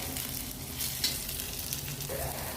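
Tomato going into sizzling fried onions in a pan, a dense continuous frying hiss that stays loud and close, with a faint scrape of stirring.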